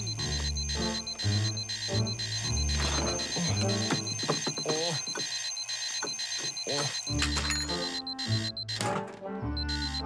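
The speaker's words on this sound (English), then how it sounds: "there's my first alarm clock" A cartoon alarm clock rings in repeated bright, rapid bursts of bell-like chiming, loud and close, mixed with playful sound effects and background music.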